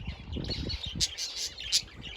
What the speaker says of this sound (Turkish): Yine kuşlar bunlar